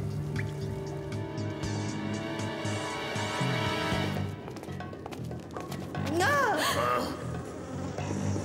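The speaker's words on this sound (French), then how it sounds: "Encore ce bourdonnement!" Cartoon buzzing of giant insects swarming, a sustained droning hum with layered tones, joined near the end by rising and falling whooshing swoops and bubbly effects, mixed with background score.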